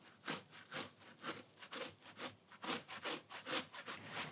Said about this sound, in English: I use the skin and all and just grate it like that